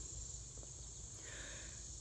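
Southern cicada (Magicicada) insects sing in a steady, continuous high-pitched buzzing drone that holds throughout, with a faint low rumble underneath and no talking.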